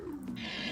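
A lion attacks in the video game Oblivion Remastered, letting out a brief, sustained low growling roar, loud and close, with no talk over it.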